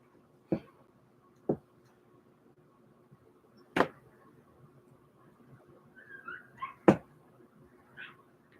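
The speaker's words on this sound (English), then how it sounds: "I can hear the dogs from all the way down there" Dogs several floors below, heard from a seventh-floor apartment, give a few sharp, distant barks spaced seconds apart, with faint whimpering and yips in between, over a quiet, steady background hum.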